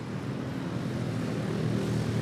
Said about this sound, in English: Fukuoka, Japan, touching down Philippine Airlines